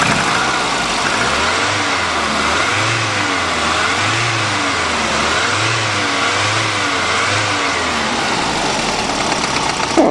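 A Volvo turbo engine runs after a makeshift radiator hose repair, close and loud, its pitch rising and falling in a regular cycle of gentle revs over a steady mechanical roar.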